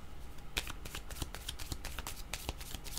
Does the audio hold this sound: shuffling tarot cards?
yes